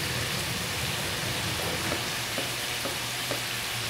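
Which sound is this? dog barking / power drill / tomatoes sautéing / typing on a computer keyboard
tomatoes sautéing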